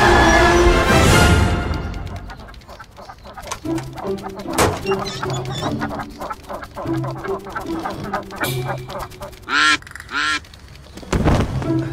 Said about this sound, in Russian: На дороге утки!